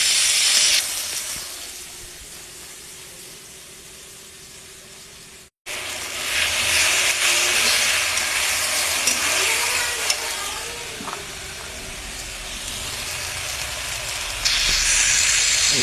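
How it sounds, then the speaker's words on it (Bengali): Onions frying in a pan to reddish brown, a continuous hissing sizzle that cuts out briefly and resumes louder, with faint clinks of stirring underneath. "একটু লাল লাল করে পেঁয়াজটা ভেজে নেওয়ার চেষ্টা করছি।"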